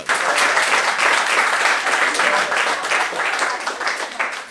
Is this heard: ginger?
no